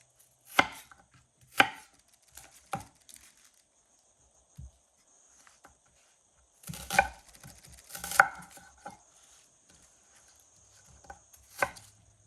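A knife chops vegetables on a cutting board in quiet kitchen surroundings, sharp irregular strikes coming singly and in small clusters with pauses between.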